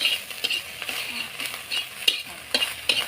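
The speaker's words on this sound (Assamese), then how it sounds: "আপোনালোকে দেখি আছে মই মাছ ভাজি আছোঁ" Fish frying in a pan at home, a steady hiss of sizzling with scattered scraping and stirring clicks, close and fairly quiet, no voices.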